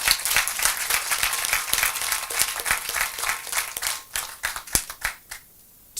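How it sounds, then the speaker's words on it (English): An audience at a morning education panel gives the panelists dense, sustained applause, loud and close, thinning into a few scattered claps as it tapers off at the end. "A big round of applause to our panelists this morning."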